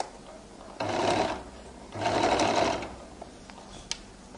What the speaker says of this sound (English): I roll it open, and I now begin to stitch